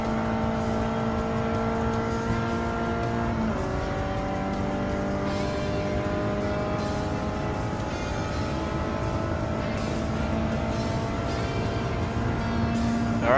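Nissan GT-R Nismo and rival race cars in Gran Turismo 7's Clubman Cup Plus, engines droning and shifting pitch steadily throughout as cars overtake one another, loud and continuous with no talk.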